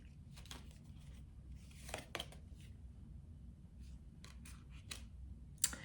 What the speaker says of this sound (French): je vais remonter mes cartes